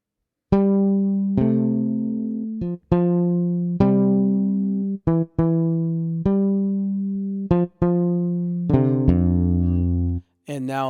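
Two synthesized bass lines play together in a beginner major-key song, with low, sustained notes moving in a steady rhythm of repeated phrases. The sound is close and clean, with no voices.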